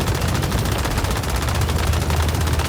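Sustained automatic gunfire in Once Human during a boss fight against the giant tree Mensdevoran, a loud, continuous, rapid stream of shots over a heavy low rumble, with no voices.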